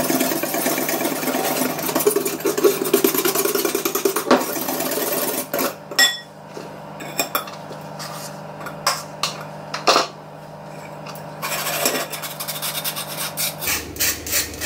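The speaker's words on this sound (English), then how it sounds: "Sift that through. And then just whisk it." Dry ingredients, including icing sugar, being whisked in a bowl for gluten-free gingerbread icing, a steady close rubbing and scraping with a few sharper taps of the whisk against the bowl.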